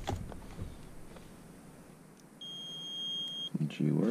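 An old thermostat beeper sounds one steady electronic beep lasting about a second amid quiet room noise during an HVAC zone system wiring job, with muffled handling sounds around it.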